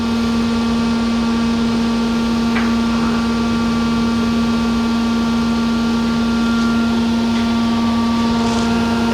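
A grinding machine hums steadily and loudly while its wheel is dressed by a diamond dresser, with a constant tonal whine and faint scraping touches, no one talking.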